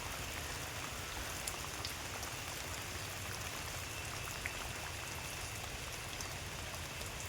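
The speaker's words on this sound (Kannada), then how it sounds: "ಸ್ವಲ್ಪ ಕಡಿಮೆ ಆಯಿತು ಮಳೆ." Rain falls steadily near a lotus lake in Coorg, a soft, even hiss of drops on surfaces that continues unbroken and fairly faint, with no one speaking.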